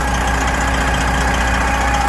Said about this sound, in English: they're putting the truck under a load right now is what they're doing